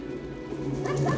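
Dog barking and whimpering in a film scene from Dante's Peak, set during a volcanic disaster, a short burst of yelps and barks over a rumbling background with no talk.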